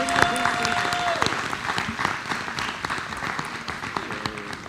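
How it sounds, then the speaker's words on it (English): Audience applause at a school board of education meeting, a dense steady patter of many hands clapping in a room, sustained throughout with a faint tone and slight murmur underneath. "Let's give our friends a round of applause and welcome them here"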